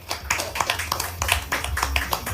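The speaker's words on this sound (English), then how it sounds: "How about a warm round of applause for Gilas Pilipinas Head Coach, Tim Cone." A press conference audience gives a soft round of applause for the Gilas Pilipinas head coach, a quiet patter of scattered claps lasting a couple of seconds.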